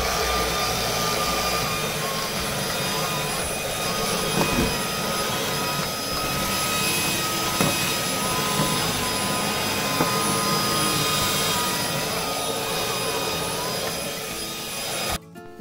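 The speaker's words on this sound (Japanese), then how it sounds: "テーブルの上も掃除機が必要かな" A household vacuum cleaner runs continuously with a steady whine and roar while cleaning spilled powder off a table, holding level nearly the whole time before cutting off at the end.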